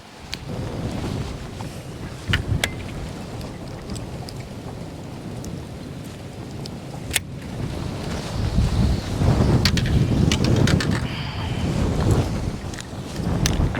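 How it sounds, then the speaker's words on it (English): Strong wind of about 30 mph blows across a fishing boat out on the California Delta, a constant loud rushing roar with buffeting gusts and rumbling bursts of microphone wind noise, building heavier near the end, no talking. "It is ripping, blowing like 30 miles an hour out here."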